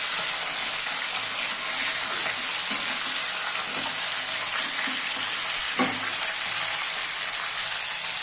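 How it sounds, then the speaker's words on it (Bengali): Fish heads rubbed with salt and turmeric fry in hot oil, giving a steady, loud, close sizzle and crackle with a few sharper pops, heard alone without talk. "তেলটা গরম হয়ে গেছে, এবার আমি মাথাগুলো ভেজে নেব।"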